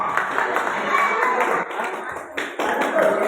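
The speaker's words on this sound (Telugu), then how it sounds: "చప్పట్లు కొట్టాలి, అందరూ చప్పట్లు" A gathering claps at a social event, the clapping uneven and bursty with short dips, and voices mixed in among the hands.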